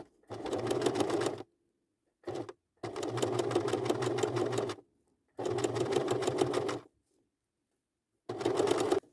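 A sewing machine stitches the assembly seam of a tweed skirt in four long runs and one short burst, each a steady mechanical whir that stops cleanly between passes, close and loud with no talk.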